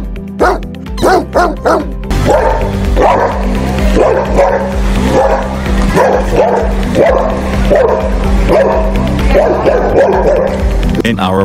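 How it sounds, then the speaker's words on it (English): A Great Dane and a Boxer bark loudly and close by, first a quick burst of deep barks, then a steady rhythmic run of booming barks continuing for about ten seconds without pause. "Powerful and loudest bark. Let's hear it first and we'll decide accordingly."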